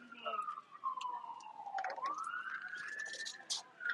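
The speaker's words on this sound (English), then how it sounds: "As the siren passes us" An emergency vehicle siren passes during a baseball game, its single wailing tone sliding down and then sweeping back up, moderately loud beneath a commentator's talk.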